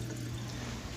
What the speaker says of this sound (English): as soon as I plugged it in, it started washing. And there you go, it's draining just fine.